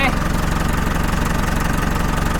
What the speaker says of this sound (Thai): ไหนฟังสีงเครื่องใกล้ๆครับ